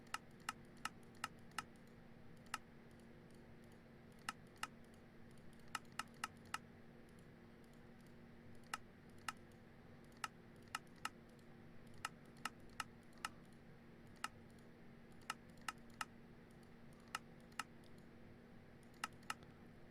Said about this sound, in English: Wow, that typing, huh?